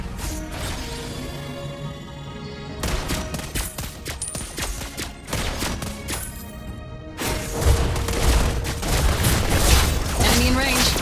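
Rapid bursts of gunfire from Leslie, the sniper hero in the mobile game Mobile Legends: Bang Bang, crack out in a dense, loud run of shots, layered over steady game music and battle effects.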